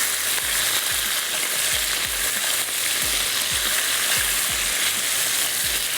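Beef pieces sizzle steadily in hot oil with golden onions and garlic-ginger paste, a dense continuous frying hiss with soft repeated stirring scrapes and taps from a spoon in the pan.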